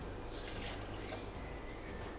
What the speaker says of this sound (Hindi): थोड़ा पानी डालते हैं,